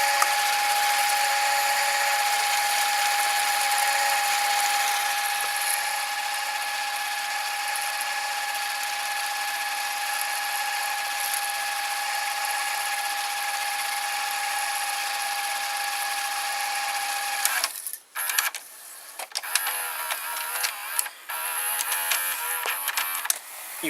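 Sanyo or Sony VCR rewinding a tape at high speed, a steady loud whirring mechanical whine with a constant tone that stops abruptly, followed by clicks and clunks as the mechanism reloads the tape.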